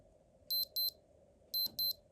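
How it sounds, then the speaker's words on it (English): A 1990s Casio digital watch alarm sounds two quick pairs of thin, high electronic beeps, close and clean against near silence. "Let me just quickly put the alarm on."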